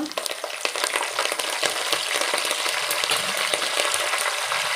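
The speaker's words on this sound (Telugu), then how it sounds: "ఎర్రగడ్డ ఎర్రగా వేపుకోవాలి" Onions fry in hot oil in a pan for a fish curry, a steady dense sizzle and crackle holding close and loud throughout with no voices.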